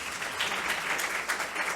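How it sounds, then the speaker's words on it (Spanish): A steady, dense wash of applause from an audience at a university medical school talk on sexuality, gender and taboos, even and moderately loud with no distinct single claps and no speech. "Les pido otro aplauso, por favor,"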